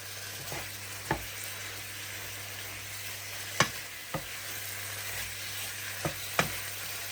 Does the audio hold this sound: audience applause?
no